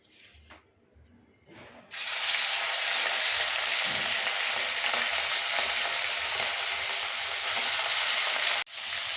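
Prawns drop into hot oil in a wok and burst into a loud, close, continuous sizzle after a few quiet handling clicks, the frying hiss holding steady before a brief dip near the end.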